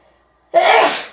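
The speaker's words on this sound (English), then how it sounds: "I got to sneeze again." One loud, close human sneeze bursts out after a brief near-silent pause, sharp at onset and trailing off quickly.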